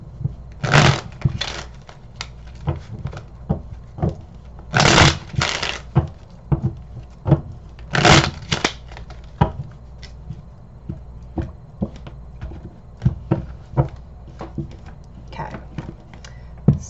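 A deck of tarot cards is shuffled by hand during a reading, giving bursts of crisp riffling and soft flicking that recur every few seconds, close and fairly quiet, with lighter tapping and card handling between them.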